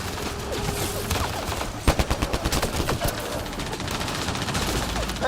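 Weapons fire in the sci-fi shooter Mass Effect: Andromeda rattles out in a rapid, loud volley of closely spaced shots, then continues as scattered bursts over a busy combat background.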